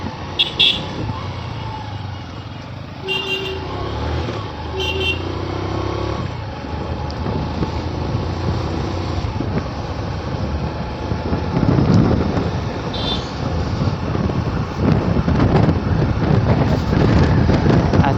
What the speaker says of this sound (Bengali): এত সুন্দর হাওয়া মারছে